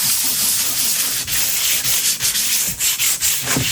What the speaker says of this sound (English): I'm going to rough it up with using some 220 grit sandpaper.